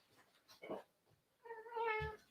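A domestic cat meows twice nearby, a short soft call followed by a longer, louder drawn-out meow, with no talking.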